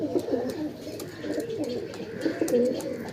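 Pakistani teddy pigeons in a loft coo softly and repeatedly at close range, their low rolling calls rising and falling over a few seconds.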